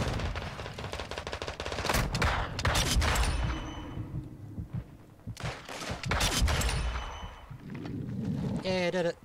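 Bursts of rapid automatic gunfire and single shots in the Call of Duty Modern Warfare 2 video game, loud and repeated in several volleys with pauses between, over faint in-game sounds.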